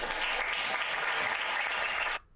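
Applause from an audience at a stand-up comedy set, a dense and even wash of clapping lasting about two seconds before it cuts off abruptly.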